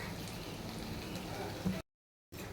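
Two spoons of hot oil for tempering sizzle with a steady, dense crackle up close, briefly cutting out before resuming.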